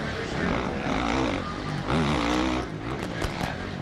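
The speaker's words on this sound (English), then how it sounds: "It's great how you can hear the bike right here. You can hear the RPMs." A motocross bike engine at a Supercross race in Las Vegas screams at high revs, pitch rising and falling sharply as the throttle is blipped, with a voice talking over it.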